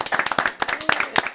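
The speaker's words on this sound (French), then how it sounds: "on refait le public, on applaudit" Brisk, uneven clapping from a small TV studio audience, close by, lasting about a second and a half with a few louder claps standing out.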